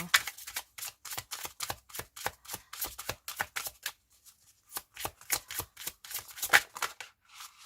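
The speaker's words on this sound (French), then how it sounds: "je vais vous tirer une carte conseil, si j'arrive à mélanger" A deck of tarot cards is shuffled by hand, giving a quick run of crisp, close riffles and flutters that pause briefly midway and then resume.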